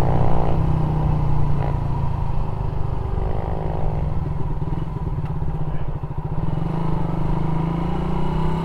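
A Suzuki Raider 150 Fi motorcycle with a remapped ECU runs steadily close by, its engine holding a low, even drone with slight rises in pitch as it is revved.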